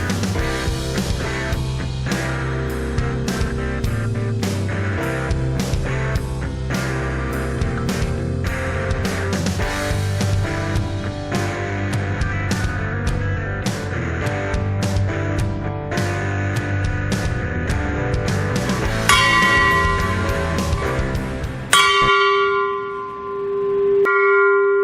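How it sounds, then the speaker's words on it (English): Hammer and chisel knocking slag off a welded steel anvil stand, a rapid steady series of sharp metallic strikes that ring like a bell, ending with one long lingering tone. "Now I'm going to take my chisel and my hammer and take off the slag from inside here."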